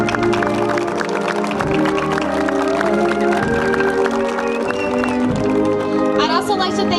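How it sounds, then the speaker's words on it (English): An audience applauds for the Ste. Genevieve, Missouri Municipal Band, with steady dense clapping filling the space while a person talks over it. "Let's give them all a round of applause."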